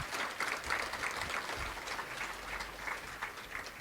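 A crowd claps for award recipients at an elder advocacy and law boot camp, a fairly quiet, even patter of hands held at a steady level throughout, with no voices over it.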